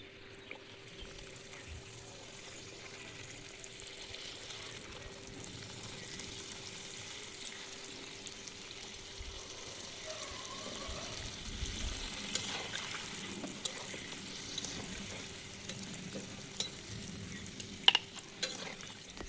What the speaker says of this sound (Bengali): আমার ভাজা হয়ে গেছে ফুচকাগুলো এক একে সব ভেজে নিলাম